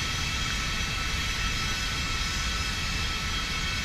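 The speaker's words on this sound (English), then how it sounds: "Plane is fully established, performing auto approach." Jet engines of a Boeing MD-11F freighter in a flight simulator drone in a steady, even roar as the aircraft flies an automatic approach toward landing at Zagreb, with no voices.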